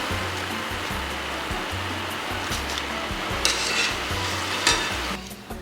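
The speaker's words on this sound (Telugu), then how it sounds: "ఇలా గోల్డెన్ బ్రౌన్ కలర్లో ఫ్రై అయ్యాక సర్వ్ చేసుకోవడానికి రెడీగా ఉన్నాయి" Vegetable lollipops deep-frying to golden brown in hot oil, a loud continuous close sizzle and bubbling with a few sharper crackles near the end.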